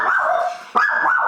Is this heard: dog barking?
yes